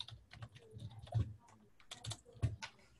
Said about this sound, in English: I go in and I start typing